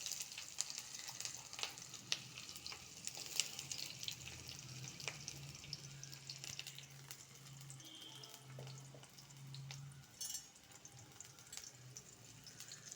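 Chopped onions dropped into hot oil for alu vorta, giving a faint, continuous sizzle with scattered small crackles.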